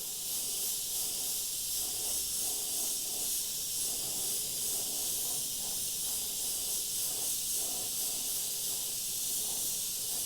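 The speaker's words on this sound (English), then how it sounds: "And now I'm going to spray a light dusting of this transparent black over that entire area." An airbrush sprays a light dusting of transparent black paint over artwork, making a steady, even, close hiss that continues unbroken with no talking.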